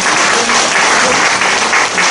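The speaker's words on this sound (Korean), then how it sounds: "여러분 박수 부탁드립니다." A room full of people claps steadily at an award presentation, dense and loud, with no voices over it.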